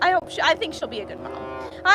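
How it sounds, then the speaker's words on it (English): Calves mooing on a dairy farm where cows are milked and calves bottle-fed, the moos rising in the background beneath someone talking and a steady fan hum. "If you guys can hear the babies in the background over my fan, they're mooing."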